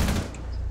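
Brief, loud gunfire from Rainbow Six Siege rattles out in a dense burst that fades into a low rumble within a fraction of a second.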